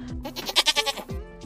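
Goat bleat imitated by a human voice during a picture-book read-aloud: one wavering, quavering bleat of about a second, near and clear, with brief speech-like sounds before and after.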